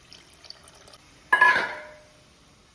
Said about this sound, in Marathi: आपण जो नंग्यांचं पाणी घेतला ना तो टाकून घेऊ